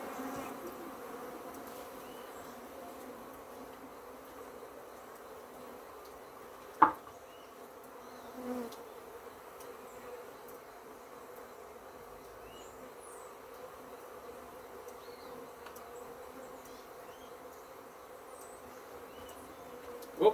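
Honey bees hum steadily at an open hive during a frame inspection, a soft continuous drone with one sharp knock and a lighter bump partway through.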